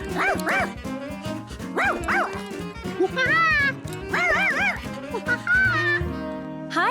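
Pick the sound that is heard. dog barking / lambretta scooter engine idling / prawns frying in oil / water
dog barking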